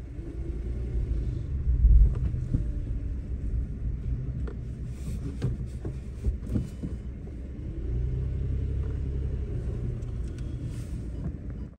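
Low, steady rumble from inside a Mitsubishi Mirage rolling forward, with an ABS light on and a faulty left front wheel speed sensor; engine and road noise swell and ease, with a few faint knocks and rattles.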